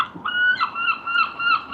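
Seagulls calling at a beach, a run of harsh, harmonic squawks repeating in quick succession, close and fairly loud, with no voices over them.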